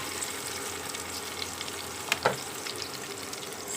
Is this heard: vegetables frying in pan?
yes